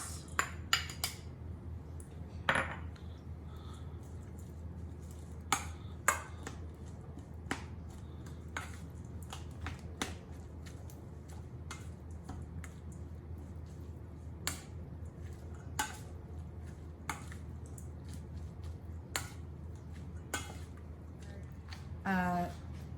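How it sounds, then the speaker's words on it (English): Mustard greens (takana) being mixed into 300 grams of rice for onigiri: scattered soft clicks, taps and squishy scrapes of a utensil against a bowl, irregular and close, over a low steady background hum. "we have 300 grams of rice, and we're going to mix in our greens"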